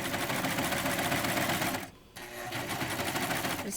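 A serger sewing machine stitches fabric with a fast, steady mechanical whir, breaking off briefly before running again at full speed.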